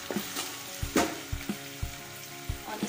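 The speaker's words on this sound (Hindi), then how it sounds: "इसमें ये बारीक कटा हुआ टमाटर इसे भी डाल देते हैं और इसे भी मसाले में अच्छे से मिक्स कर लेंगे" Finely chopped tomato sizzling and frying in a pan of spice masala for taro root curry, with a steady crackle and repeated soft thuds and scrapes of a spoon stirring it, no talking.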